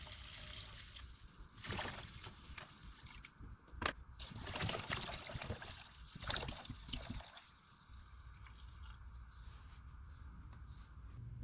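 Four litres of double strength vinegar poured into a container, a steady splashing trickle with a few louder sloshing bursts, close and alone with no talk.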